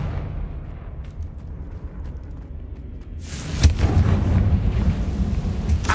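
A Confringo blasting spell in Hogwarts Legacy bursts into a single loud, sharp explosion. It breaks over a low game rumble and leaves a crackling, rumbling tail that continues to the end.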